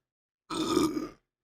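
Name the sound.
man burping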